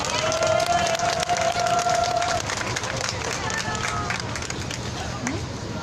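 A crowd at an outdoor Wednesday protest rally over the Japanese military sexual slavery issue claps for the school groups taking part. Dense, steady applause fills the whole stretch, with crowd voices mixed in.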